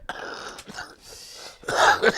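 A short throaty cough or throat-clearing burst near the end, preceded by quieter breathy noises and rustling.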